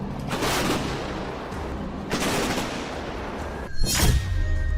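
A K9 Vajra self-propelled howitzer fires in open terrain, with several heavy booming blasts spaced across a few seconds and broad rumbling echoes trailing each shot.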